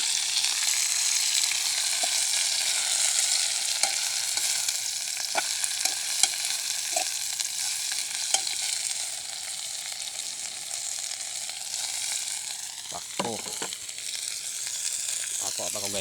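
Fern and mushrooms sizzle steadily in a pan outdoors in the mountains, with occasional soft scrapes of stirring and a few brief clicks, continuous and fairly close.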